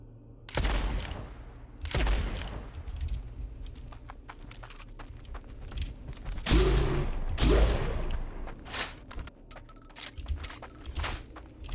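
Loud booming shotgun blasts in the video game Blood West, several heavy shots spaced irregularly over a rumbling game soundscape with scattered clatter between them.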